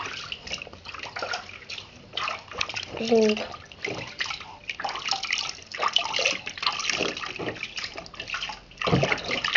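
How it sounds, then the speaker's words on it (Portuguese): Water splashes and sloshes in a bath in irregular bursts, with drips and small pours, close and fairly quiet, while an adult talks and a voice comes through at times. "Tá dando banho?"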